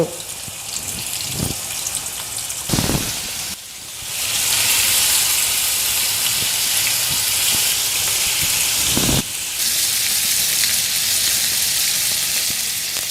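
Paneer shallow frying in oil on a tawa gives a loud, continuous sizzle and hiss close by, broken by a few brief dips and knocks, with no voices.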